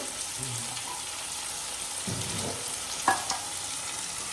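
Potatoes fry in a pan with a soft continuous sizzle, fairly quiet and steady, broken by a couple of brief knocks near the end.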